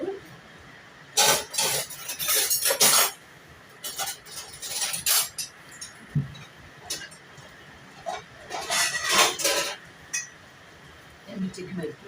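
Plates and cutlery clink and clatter in a home kitchen as a plate is picked up from among the dishes, several short bright bursts of crockery contact, close and fairly faint, with occasional quiet movement between them.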